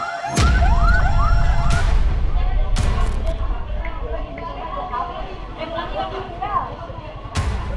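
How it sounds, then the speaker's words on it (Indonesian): Emergency vehicle sirens wail at night during a warehouse fire in Kapuk Muara, a rising-and-falling siren loud at first then fading under a dense crowd of shouting voices, with sharp bangs and talk throughout. "Suara teriakan dan sirene pun pecah di tengah gelapnya malam"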